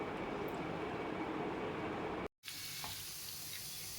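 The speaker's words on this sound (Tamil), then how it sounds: "இப்போ மெதுவாக சிம்மில் வச்சு நாம் உருளைக்கிழங்கு சிப்ஸை எடுத்துக்கலாம் திருப்பி திருப்பி விட்டு எடுத்துடலாம்" Potato chips frying in oil over a low flame make a dense, steady crackling sizzle close by, broken by one brief cut before the bubbling resumes slightly quieter.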